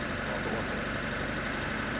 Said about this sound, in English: That's back to high idling.